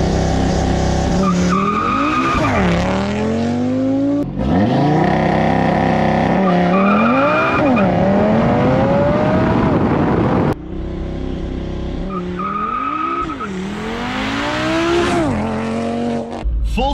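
Stiff car accelerating hard from a standstill, engine roaring loudly as it climbs through gears, with tires squealing in several runs, close and continuous.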